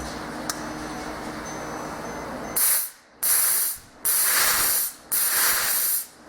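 Methanol injection purge spraying through a windshield washer nozzle with a modified orifice on a 596 hp Porsche 987.2 Cayman Turbo, four loud hissing bursts about a second each, separated by short pauses, close up.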